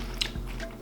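A crispy vegan margherita-style grilled cheese sandwich gets bitten into, giving one short, close crunch followed by a softer crackle, with no talking.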